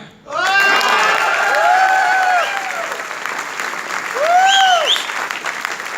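Audience applause, a steady wash of clapping throughout, with voices calling out over it in drawn-out tones.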